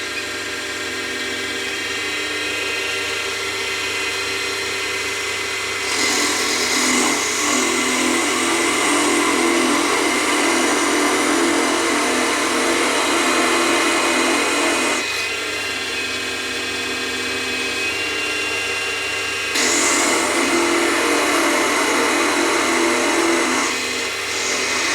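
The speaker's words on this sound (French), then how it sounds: "pour pouvoir faire le perçage le plus net possible" A diamond drill bit boring into a crystal gives a steady high whirring whine, rising into two louder stretches of grinding before easing back, continuous and close with no talking.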